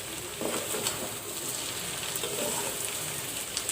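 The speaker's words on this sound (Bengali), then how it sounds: "আর আমি যেহেতু ভাজি রান্না করব" Papaya pieces frying for a vegetable bhaji in a pan give off a steady, dense sizzle and crackle that carries evenly through the whole stretch, with no voices over it.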